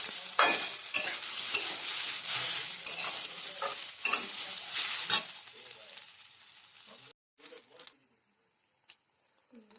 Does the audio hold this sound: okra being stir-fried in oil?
yes